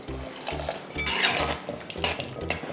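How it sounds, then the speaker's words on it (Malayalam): Water poured into a pan of prawn curry, sloshing and bubbling against the pot with small clinks of cookware, steady and close with no talk. "നമ്മളിവിടെ 150 മില്ലി വെള്ളം ചേർത്ത് കൊടുക്കുന്നുണ്ട്"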